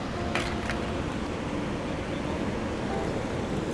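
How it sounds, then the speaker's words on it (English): Steady rushing river water, a broad continuous wash of flow and wind noise outdoors while fishing, with no voices. "Is it just me or is that water flowing harder?"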